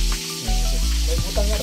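Fish fries in hot oil in a home in Camarines Sur, a loud, steady, close sizzle and hiss running throughout, with voices faintly beneath it.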